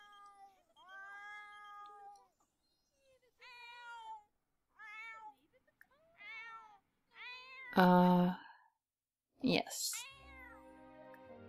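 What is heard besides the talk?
cat meowing in video game The Sims 4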